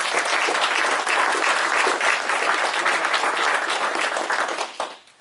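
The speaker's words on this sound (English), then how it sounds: "another round of applause for all of our awardees" Sustained applause from an awards-ceremony audience honoring role-model awardees at a veterans' event, dense and steady throughout before tapering off in the final half second.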